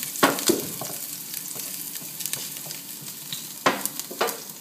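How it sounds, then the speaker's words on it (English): Garlic sizzles and crackles in a hot pan, with intermittent scraping and stirring sounds, close and moderately loud. "I sizzle the garlic just a little bit."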